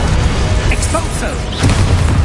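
Expulso spell blasting in Hogwarts Legacy, a loud continuous rumbling boom with bursts and pops through the whole stretch.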